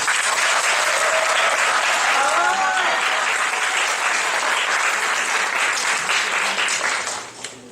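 A church youth worship congregation applauds loudly in welcome of a pastor, a dense sustained wash of clapping that fills the room, then tapers off near the end, with a voice briefly audible beneath it.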